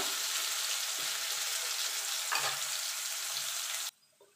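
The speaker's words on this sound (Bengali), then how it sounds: "দেখুন বন্ধু আলুটা ভাজা হয়ে গেছে," Potatoes seasoned with salt and turmeric fry in hot oil with a steady, loud broadband sizzle, a couple of soft utensil knocks partway through, before the sizzling cuts off abruptly near the end.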